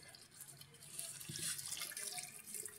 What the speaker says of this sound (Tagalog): Kurang pa ito ng tubig. Ilalagdagan ko pa ng tubig.